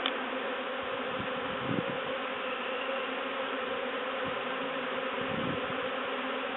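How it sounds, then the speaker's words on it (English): A swarm of honeybees gathered from a top bar hive, giving a continuous dense buzzing drone close by, steady throughout with a few brief low bumps and no speech. "It's a very weird feeling, having a handful of bees."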